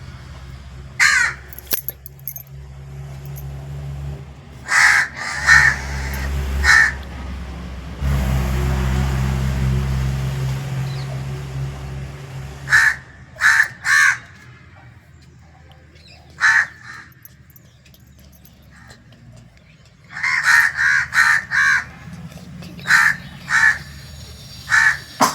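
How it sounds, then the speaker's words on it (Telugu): Several crows caw while feeding in the early morning, loud harsh calls in short clustered bursts spread across the stretch, with a passing car engine rumbling underneath midway. "మళ్ళీ మిగతా కాకులు కూడా వచ్చేస్తాయి చూడండి."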